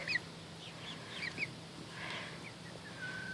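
Backyard chickens cluck softly and intermittently nearby, with scattered short squawks and murmuring calls over a quiet outdoor background.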